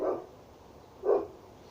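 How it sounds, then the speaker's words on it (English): Two separate barks from a dog next door, each short and moderately loud, spaced about a second apart against a quiet indoor background. "ignore the dog barking next door"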